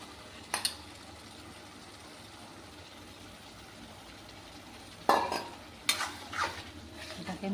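Half a kilo of mutton for mutton kosha drops into a cooking pan and is stirred, brief clattering scrapes and sizzle bursts near the end after a mostly quiet stretch with one early clink.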